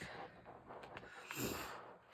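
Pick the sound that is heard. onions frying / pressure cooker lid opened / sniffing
sniffing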